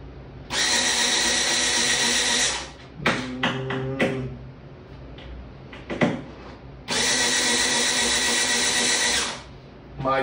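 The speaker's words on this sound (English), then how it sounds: "My drill doesn't seem to have enough torque." A power drill works to unscrew a fixture during a home renovation, whirring loudly in two sustained bursts of about two seconds each, separated by clattering taps and knocks of handling.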